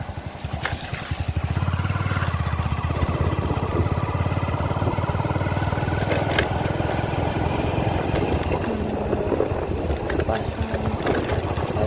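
A motorcycle engine drones steadily and loudly up close for the whole stretch while riding out to a farm, with a constant low rumble and no breaks.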